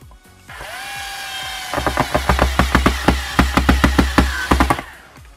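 A power drill drives screws into a homemade foot pedal switch built from recycled parts. The motor winds up to a steady whine, then turns into a fast, loud run of rhythmic clattering pulses as the screw seats, heard close up.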